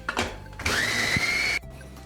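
Food processor grinding biscuits with cold butter and a spoonful of milk, a loud steady whirring blend lasting about a second after brief starting bursts, close and alone.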